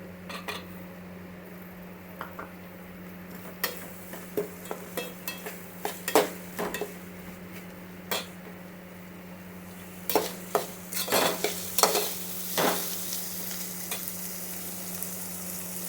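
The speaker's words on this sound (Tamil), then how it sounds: "தக்காளி கொஞ்சம் வதங்கணும்" Tomatoes sautéing in a pan for a hotel-style poori potato masala, a low steady sizzle under a hum, with sharp metal spatula clinks and scrapes against the pan that grow busier toward the end, close and without talk.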